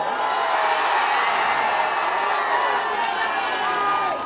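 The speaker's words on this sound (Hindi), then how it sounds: "एगो ताली हो जाए हो" A large crowd at an outdoor political rally claps and cheers in one dense, steady wash of noise that stays loud for the whole stretch, with shouting voices mixed through it.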